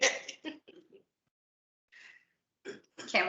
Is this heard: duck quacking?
no